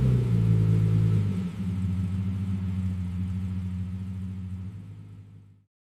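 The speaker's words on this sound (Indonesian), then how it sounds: "ini mobilnya udah jalan lurus terus kan?" Car engine rumbling steadily as the vehicle drives straight ahead, a low continuous drone that shifts slightly in pitch partway through, then cuts off abruptly near the end.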